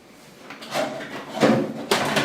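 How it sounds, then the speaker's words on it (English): The metal top cover of a Panasonic microwave scrapes as it slides off the chassis in three short, close grinding pushes, loud and without talk. "Now slide off the top cover."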